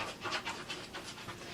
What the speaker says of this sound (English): okay, that's my dog. So my dog just wanted to come in.